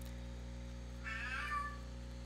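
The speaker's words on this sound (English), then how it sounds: "I'm not sure if you can hear my kitty cat in the background" A pet cat lets out one drawn-out meow in the background halfway through, faint against a steady low electrical hum, with no talking.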